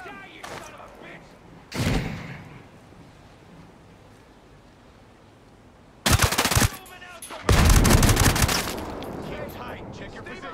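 Bursts of automatic gunfire from Ghost Recon Breakpoint close-quarters combat: a short shot near two seconds, then two loud, dense volleys later, with quieter ambience between.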